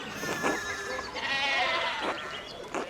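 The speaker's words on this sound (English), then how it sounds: "the sheep are just everywhere" Sheep in the video game Pentiment bleat several times in quick succession, wavering and fairly close, over a soft game ambience.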